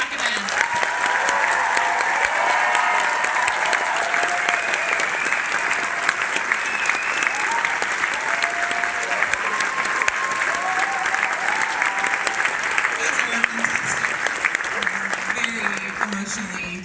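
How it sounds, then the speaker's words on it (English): Sustained applause from a theater audience at a Tribeca film festival screening, honoring the director, a dense steady clapping that fills the room throughout, with scattered cheers and voices mixed into the crowd. "And please give a huge round of applause to the director, Desiree Ackerman."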